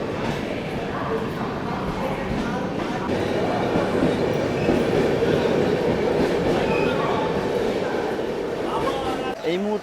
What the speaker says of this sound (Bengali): আমাদের নন্দনকান এক্সপ্রেস ছেড়ে বেরিয়ে যাচ্ছে মেদিনীপুর রেলওয়ে স্টেশনে